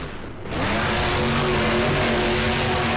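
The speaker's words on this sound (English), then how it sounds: "that engine's definitely not in the condition it was when Spoderman started this run" A monster truck engine in the BeamNG racing game at a Monster Jam freestyle run, worn and no longer in good condition, roars up from a brief lull into a loud, sustained droning rev.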